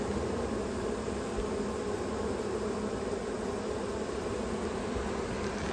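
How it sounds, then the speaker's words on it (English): A steady, dense buzzing hum of many honeybees fanning their wings in a queenless hive, constant and close, with no voices and no pauses. "why are they all sitting here fanning their wings?"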